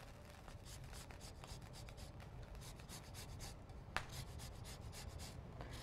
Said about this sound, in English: I'm just using my microplane to zest some lime.